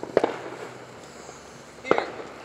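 Fireworks on the Fourth of July, two sharp distant bangs spaced about two seconds apart, each a brief crackling burst over quiet outdoor background.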